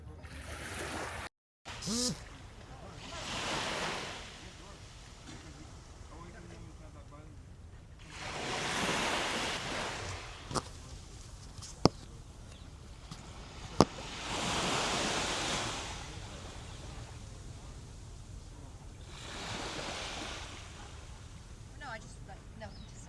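Calm sea at Deep Bay beach in Antigua, soft waves washing ashore in slow, broad swells every few seconds, quiet and gentle with a low steady hiss between them, and a couple of sharp clicks.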